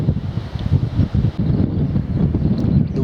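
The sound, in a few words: strong coastal wind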